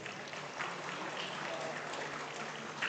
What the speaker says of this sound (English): Round of applause, please, for your 105s.